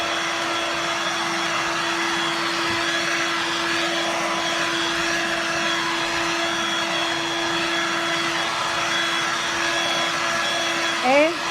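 A Hoover Dirt Devil Vibe corded stick vacuum runs steadily and loudly throughout, a constant motor whine with a strong hum, ending with a brief handling bump.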